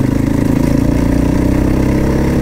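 A Crossfire motorcycle engine runs at a steady idle close by, a loud, throbbing low-pitched rumble with a fast regular pulse and no talking.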